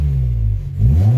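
A Honda S2000 with a used K&N intake idles loudly up close, then its engine revs briefly in a rising, smooth mechanical drone.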